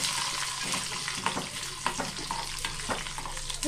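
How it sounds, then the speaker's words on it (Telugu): Curry leaves and two dried red chillies sputter in hot oil with a close, dense sizzle and scattered crackling pops that run steadily throughout. "ఇప్పుడు దీనిలో కొంచెం కరివేపాకు, ఎండుమిరపకాయలు, ఒక 2 ఎండుమిరపకాయలు వేస్తున్నాము"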